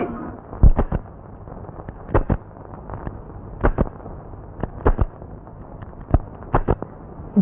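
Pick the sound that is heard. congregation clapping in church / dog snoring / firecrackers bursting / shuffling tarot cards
firecrackers bursting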